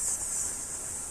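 A steady, airy hiss of an ujjayi ocean-breath inhale, drawn through a constricted throat with the tongue in khechari mudra, continuous and close with a bright sibilant edge and no speech.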